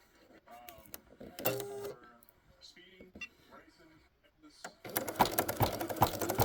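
Someone talks, then near the end an embroidery machine starts up loudly, its fast mechanical stitching chatter running steadily as it sews clear vinyl onto fabric.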